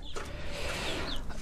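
Two roosters and a hen, Italian-breed chickens, clucking steadily over a dense, continuous farmyard background, with no pauses across the short stretch.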